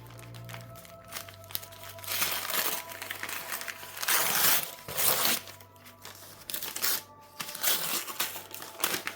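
Plain brown paper with a pull tab being torn open and crinkled on a book parcel, a run of loud rips and rustles in uneven bursts, close up, with no talking.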